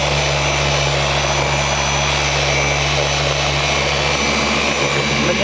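An orbital polishing machine applying an all-in-one polish to a car, running continuously with a loud, steady whirring drone and no pauses.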